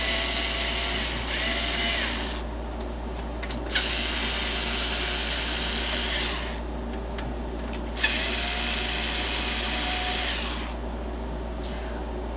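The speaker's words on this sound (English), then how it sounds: "using my trusty Skill electric screwdriver, I'm going to go ahead and remove the 4 screws that hold the power supply in" A Skil electric screwdriver removes the screws holding a computer power supply, whirring in several bursts of a few seconds each, with brief clicks between runs and a low steady hum underneath.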